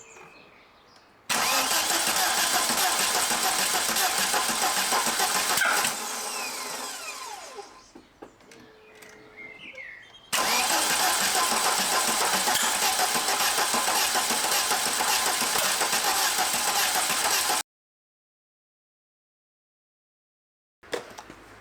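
Car engine cranking and firing after an engine swap, with two cylinders crossed in the ignition wiring: a loud sustained run, a sputtering drop-off, then a second long loud run that cuts abruptly to silence, with a brief pop near the end.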